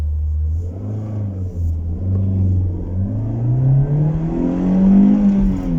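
A Toyota Corolla 1.6 Terra gasoline car pulling away under light throttle, its engine note rising smoothly in pitch as it revs up, close and loud, with a low rumble beneath and no talk.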